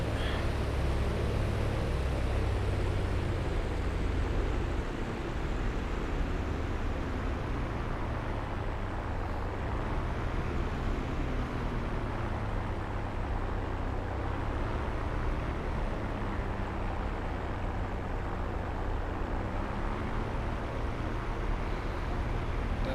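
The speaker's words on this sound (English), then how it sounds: "adjust the throttle to run the engine about 1200 to 1300 RPM" A P-51D Mustang piston engine in the DCS flight simulator runs at a steady low RPM, producing a continuous broad rumbling roar with a wind-like hiss, constant and unbroken throughout.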